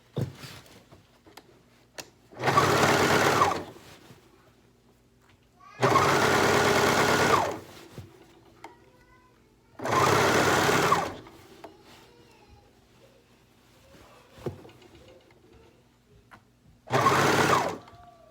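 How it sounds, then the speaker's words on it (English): A sewing machine stitches a zipper into a qaspeq in four loud bursts of about a second each, separated by quiet pauses with faint handling noises. "I'm just gonna start from the back and I'm gonna sew all the way around"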